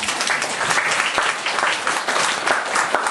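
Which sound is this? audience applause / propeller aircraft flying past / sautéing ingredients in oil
audience applause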